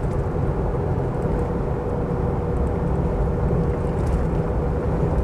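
A Mitsubishi Pajero 2.8 TDI LWB automatic cruises along with a steady, low diesel drone and road rumble heard from inside the cabin, unbroken and even throughout.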